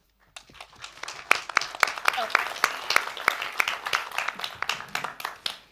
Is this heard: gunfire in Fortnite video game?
no